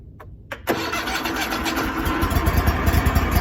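A zero-turn lawn mower's small engine cranks briefly, then catches and settles into a loud, steady running rumble with the choke on and the machine in park.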